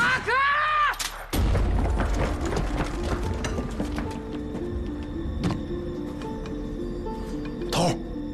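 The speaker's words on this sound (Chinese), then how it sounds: "枪声停了" Gunfire crackles through a kung fu film battle against Japanese soldiers near a city gate: a high vocal cry, then a heavy blast followed by scattered shots and clattering over a busy, constant din.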